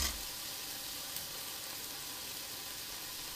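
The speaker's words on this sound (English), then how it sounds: "getting nice and crispy, and I'm stirring it." Bacon and chicken crackle in a frying pan, a soft, continuous sizzle and hiss heard up close with no talking.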